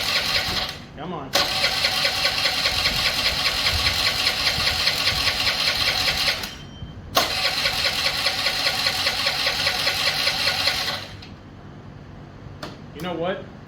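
A 2003 Honda Elite 80 scooter engine, restored after sitting fifteen years, cranks and catches, running with a loud, steady buzzing idle, drops briefly, restarts and runs on before settling lower, with someone talking.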